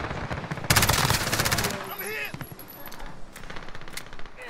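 Automatic gunfire in Call of Duty Warzone on PlayStation 4: a dense, loud burst of rapid shots for about a second, then scattered quieter shots and game effects, with players talking over it.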